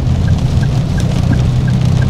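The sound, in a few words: rain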